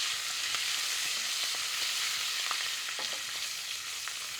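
Garlic sautéing in a pan for tomato sauce with whole basil sprigs, a soft steady sizzle with faint scattered crackles and small stirring ticks, fairly quiet and with no talking.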